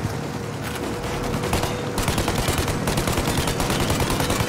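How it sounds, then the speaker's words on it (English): Rapid automatic gunfire rattles nonstop in Mafia Definitive Edition as shots are aimed at a plane's engines, dense and loud bursts running throughout with no speech. "Shoot out the engines!"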